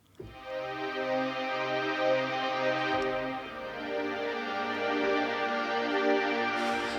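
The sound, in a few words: synthesizer string ensemble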